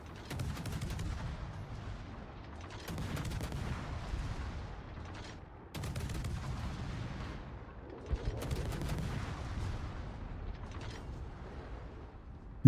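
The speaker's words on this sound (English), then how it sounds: "Pretty explosions." Naval battle sounds from the video game World of Warships: repeated booming cannon salvos and rumbling explosions in rolling bursts, with a sharp crack at the very end and no talking over them.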